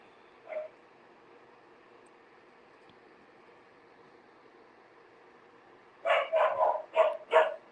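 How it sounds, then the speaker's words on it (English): Dogs bark in the background, one faint yip early on, then a quick cluster of five or six sharper barks near the end over a low, hissy room tone. "Don't mind the dogs barking in the background, please."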